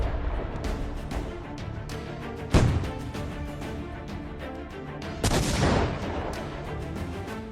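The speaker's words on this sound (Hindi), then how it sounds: "तेल अवीव के आसमान में ईरानी क्लस्टर बम से भारी मिसाइलें कैसे कोहराम मचा रही हैं।" Iranian cluster bomb missiles blast over Tel Aviv: a steady crackle of rapid small detonations runs throughout, punctuated by two heavier booms, one sharp and one rolling, with no talk.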